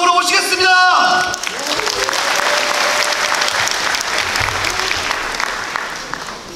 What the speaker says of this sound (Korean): 큰 박수와 함성으로 모시겠습니다